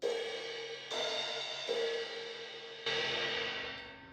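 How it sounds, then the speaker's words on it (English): Crash cymbals on a drum set, struck three times so that each bright metallic wash rings out and slowly decays, played alone. "We have crash cymbals."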